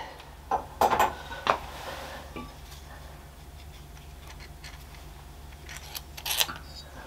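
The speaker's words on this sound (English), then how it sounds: "Take that bolt out." A bolt is removed from the coil cover of a 2021 Harley-Davidson Sport Glide, giving a few sharp metallic clicks and ratchet ticks near the start and a couple more near the end, with quiet hum between.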